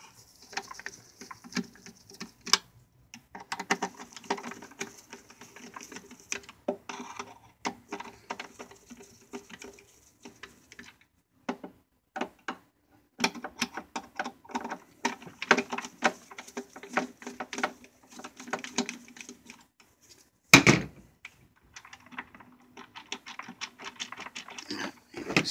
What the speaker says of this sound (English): Remove your 4 screws.